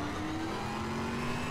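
Ford GT engine in Need for Speed Shift, a steady droning whine with a sustained tonal hum, holding a fairly even level through a short stretch of acceleration, alone with no talk.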